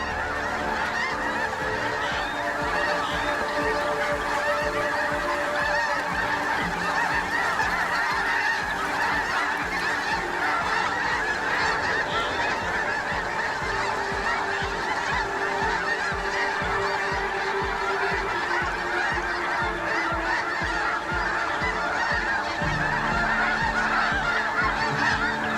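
A huge flock of geese, thousands of birds, sounding an alarm: dense, continuous overlapping honks fill the air loudly and evenly for the whole stretch, with no talking.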